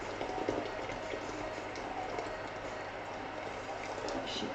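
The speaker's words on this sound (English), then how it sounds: "I'm trying not to burn myself on the boiling water." A pot about half full of water boils on a kitchen hob over moderate heat, giving a steady, continuous bubbling hiss at an even level with no voices.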